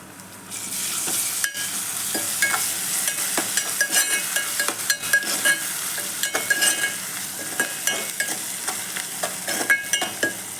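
Ginger frying in a pan for a meal-maker (soy chunk) curry, with a continuous hiss of hot oil and frequent scraping clicks from a spoon stirring it, close and fairly loud, with no voices.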